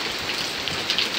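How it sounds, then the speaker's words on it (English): Rain falls steadily in Texas summer weather, a close, even patter of drops on a surface, alone without voices. "but it is raining, so."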